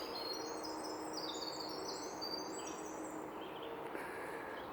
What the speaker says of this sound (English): Some of these birds are like unearthly when you hear them